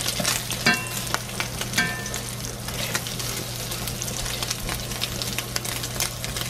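Bacon frying in a pan, with a steady, busy sizzle and crackle that runs throughout, broken by a few brief stirring or scraping touches and no talking.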